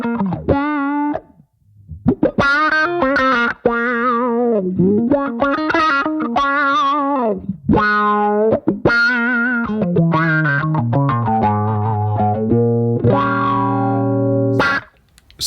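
Electric guitar on a Strat neck pickup played through a Neural DSP Archetype Cory Wong preset, sounding a bright, effected lead line of sustained notes and quick phrases with chorus-like shimmer and short pauses.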